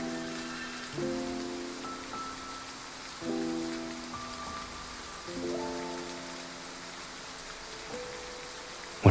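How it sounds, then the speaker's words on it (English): Steady rain falls in the video game Love and Deepspace, a constant soft hiss beneath sustained, gently shifting musical tones. "We'll leave once the rain stops."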